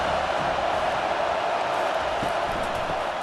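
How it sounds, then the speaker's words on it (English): Stadium crowd noise from the College Football 25 video game during an Alabama vs Tennessee matchup, a steady roar of cheering that holds at an even level throughout. "This crowd bringing the energy and noise early."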